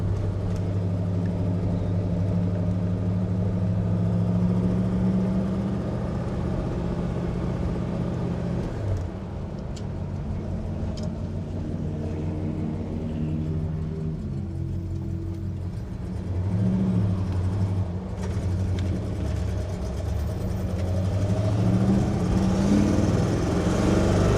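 A 1965 Plymouth Fury with a 383 V8 and four-speed hums steadily while driving, its engine drone shifting pitch as speed changes, with a continuous mid-level rumble and no talking.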